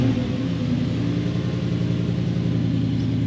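Toyota 1UZ non-VVTi V8 engine idling, a steady low rumble with an even, unchanging note, close and continuous with no talking.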